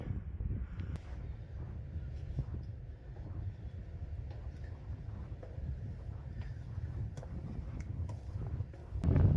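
Strong wind buffets the microphone on the balcony of Stoodley Pike tower, a hilltop monument near Todmorden, in a constant low rumble, gusting throughout with occasional faint knocks.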